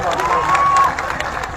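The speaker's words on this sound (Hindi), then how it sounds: "और जोरदार खुद के लिए तालियां बजाओ" A crowd at a protest rally applauds and cheers loudly in a brief, dense burst, with a shrill whistle cutting through the clapping and shouting.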